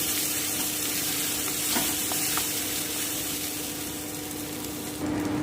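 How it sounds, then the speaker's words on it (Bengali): Loud, continuous sizzling from pea paste frying in a wok for pea dhoka, with a few sharp scrapes of stirring close up. "আমি এবার এটাকে খুব ভালো করে ভেজে নেব যতক্ষণ এটা কড়াই থেকে ছেড়ে না যাচ্ছে"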